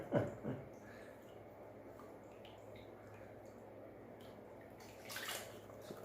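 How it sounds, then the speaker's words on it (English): Gold panning in a creek: water sloshes and drips faintly in a pan, with a couple of soft splashy swirls near the start and end over quiet ambient noise. "we'll pan this out and you'll see the gold"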